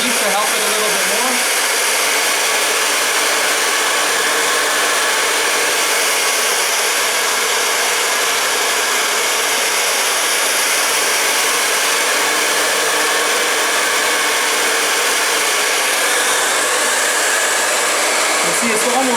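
A Conair InfinitiPro 1875W tourmaline ceramic hair dryer runs on medium heat, giving a loud, steady, close airflow roar that holds unbroken throughout.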